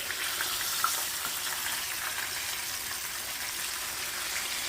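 Fish and chips fry in hot oil with a steady, dense sizzle and crackle close by, even in loudness throughout, with no talking.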